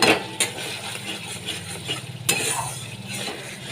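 Ground Kashmiri chili and cumin being stirred and sautéed in a pan for an ilish fish curry, soft close scraping and faint sizzle with a couple of sharp clinks of a spoon against the pan.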